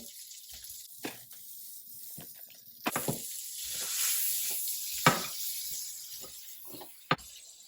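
Blanched asparagus sizzles in a buttered pan, a soft steady hiss that swells in the middle with a few sharp spits and pops, fairly quiet and with no talking.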